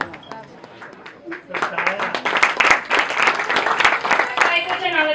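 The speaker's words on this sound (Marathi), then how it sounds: "दीक्षा यांच्यासाठी जोरदार टाळ्या." Guests clapping for Diksha at a home baby shower, a burst of dense, lively applause rising after a brief lull and continuing to the end, with voices talking over it.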